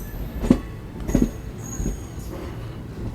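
A train on the single-line electrified Delhi–Secunderabad route pulls out near Hazur Sahib Nanded, its wheels knocking over rail joints in a few spaced clacks under a steady rolling rumble and a faint high squeal.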